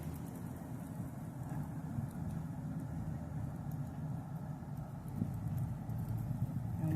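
A car engine is given gas in reverse with the emergency brake on, producing a low, steady rumble that holds at a constant level throughout, with no talk.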